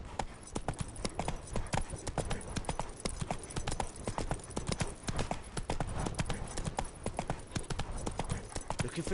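Roach, the horse in the video game Witcher 3, clops along in a rapid, steady rhythm of hoofbeats that are close and loud, with a brief spoken line mixed in.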